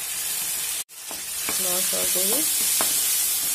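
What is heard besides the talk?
fish belly frying in pan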